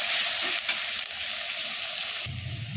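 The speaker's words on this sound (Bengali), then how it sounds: "পেঁয়াজটা একটু লাল লাল করে ভাজা হোক" Onions fry in a pan with a loud, steady hiss of hot oil. Near the end the sound shifts and a low rumble comes in under the sizzle.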